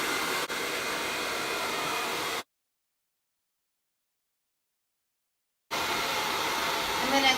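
A hair dryer blows steadily while hair is dried, a close, loud rushing roar that cuts off abruptly for a few seconds of silence and then starts again.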